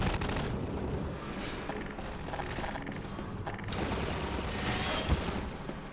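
A gunship in the Half-Life 2 video game fires a dense, continuous burst through a window, a loud rattling barrage that keeps on for several seconds.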